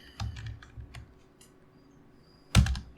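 Keystrokes on a computer keyboard during website design work, a few scattered soft clicks early on, then a louder cluster of quick taps near the end, close and alone without talk.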